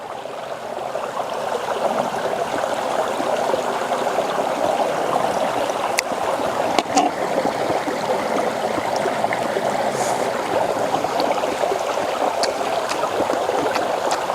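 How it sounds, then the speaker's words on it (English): A stream flows steadily beside an outdoor cooking spot, a continuous mid-level rush and babble of water that holds constant throughout, with occasional faint clicks and small knocks nearby and no talking. "I hope you can hear all the water."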